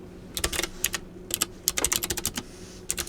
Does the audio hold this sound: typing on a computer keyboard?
yes